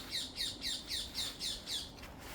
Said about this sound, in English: It's parrots.